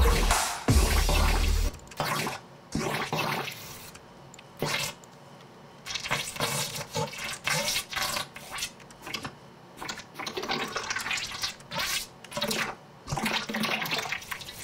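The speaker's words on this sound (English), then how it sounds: "water has this natural pitchy thing that it does" Processed water sounds inside an electronic music track come as bursts of dense, rushing texture that stop and start, loud and close, with no voices.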